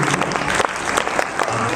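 Loud, dense clapping from a crowd at a school annual results ceremony, steady and continuous throughout, with a voice briefly audible over it.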